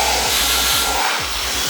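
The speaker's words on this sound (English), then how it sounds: "And now also you want to go back in with your dryer." A hair dryer blows steadily close up while styling thick natural hair into a slicked-back low puff, giving a loud continuous airy roar with faint rhythmic low thumps underneath.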